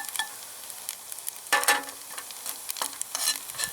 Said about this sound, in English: So in we go with our sage, and let that get all over the butter, and that's, you'll start hearing it pop soon.